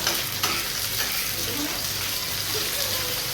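Tomatoes tossed into onions frying until reddish in a pan, for an Agri Koli raw-mango fish curry: a dense, steady sizzle with a soft thump near the start and stirring noise throughout.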